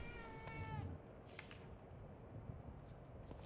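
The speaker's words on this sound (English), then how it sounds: "Cat. Meow." A cat in the video game The Evil Within 2 gives a short, clear meow early on, followed by faint clicks and low background ambience.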